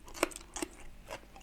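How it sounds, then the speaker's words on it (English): Crisp crunching bites into crunchy vegetables in chicken satay with peanut sauce, a few separate crunches heard up close at the mouth, with no talk. "Crunchy vegetables."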